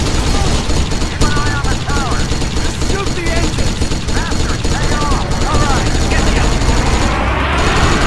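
Rapid gunfire from the Kane and Lynch video game, a dense, loud, continuous crackle of shots filling the whole stretch with busy action noise behind it.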